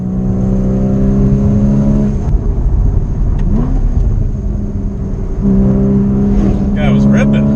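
A Porsche Cayman GTS is driven hard through a canyon, its engine revving up and down through gear changes, loud and close with harmonic pitch sweeps.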